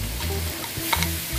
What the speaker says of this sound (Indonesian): Saya tambahkan batang daun bawang. Lalu saya masukkan ayamnya.